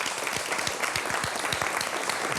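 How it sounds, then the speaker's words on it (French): Loud audience applause at a French youth poetry slam evening, dense clapping from a crowd with a few sharper individual claps standing out, sustained throughout and close. "on applaudit très fort"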